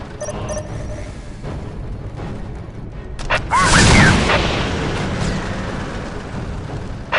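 A Whirlwind artillery tank firing in Warhammer 40K: Dawn of War, a loud booming blast with a rushing roar that swells and fades over several seconds, following sharp earlier battle sounds.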